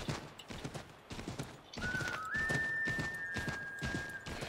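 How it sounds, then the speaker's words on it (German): Horse galloping in the video game Assassin's Creed III, rhythmic hoofbeats pounding close up while a thin, flute-like whistling tone enters partway through and holds. "Jetzt können wir ein bisschen galoppieren."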